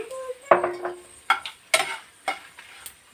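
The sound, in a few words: dried red chillies and coriander seeds roasting in a pan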